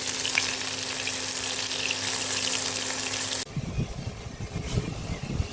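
Topse fish frying in hot oil, a dense, steady sizzle that runs close and loud, then gives way to a softer bubbling crackle.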